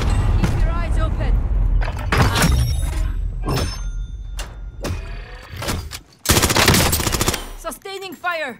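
Machine-gun fire in the Call of Duty: Modern Warfare video game, loud sustained bursts and single shots in an irregular rhythm, with a dense rattling stretch near the end and voices in the game mix.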